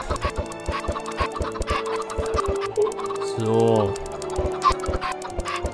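Chickens in Minecraft clucking repeatedly in short bursts, with one longer drawn-out squawk partway through, all fairly close, while someone speaks a word over them.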